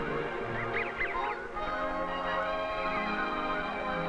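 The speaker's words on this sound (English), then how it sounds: "Quietly I moved on as a flock of Canada geese passed overhead." Canada geese honk overhead in cattail marsh country, a few nasal calls near the start over a steady wash of background sound, with the later calls fainter and more scattered.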